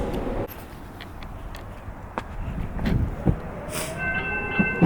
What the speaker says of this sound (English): Now the train's coming.